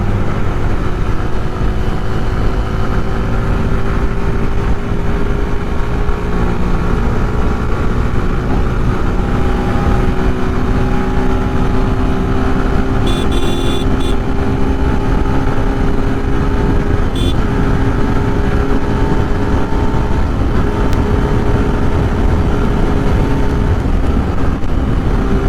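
A 2025 Yamaha FZ-S version 4.0 motorcycle accelerates hard along a highway toward top speed. Its engine drones steadily with a slowly rising pitch, under a constant heavy rush of wind, and nobody speaks.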